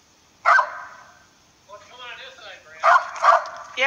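A dog close by gives a sharp bark, then a drawn-out whining yelp, followed by two more quick, loud barks, with quiet pauses between.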